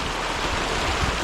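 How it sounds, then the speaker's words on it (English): Forest streams in Kenya's Ngare Ndare Forest rush and gurgle in a brief, even wash of flowing water, moderately loud and close, with no voices over it. "Look at there, small streams, big streams."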